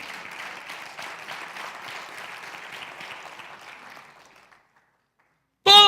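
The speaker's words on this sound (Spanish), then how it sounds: "Vamos a dar un aplauso a Jesús." Church congregation applauding for Jesus during a service, a steady wash of clapping for about four seconds that fades out into silence before a sudden loud burst at the end.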